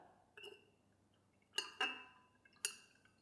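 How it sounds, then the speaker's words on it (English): A few light clinks and taps of a utensil against glass while stirring salt into water, scattered and fairly faint, with quiet pauses between them. "Now let's give it a stir."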